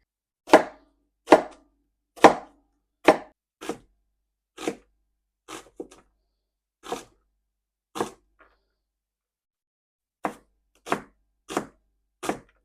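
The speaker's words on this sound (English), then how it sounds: "dice my onion pretty fine" A knife dices an onion on a cutting board in a run of evenly spaced strokes, a pause, then a few more, close and crisp.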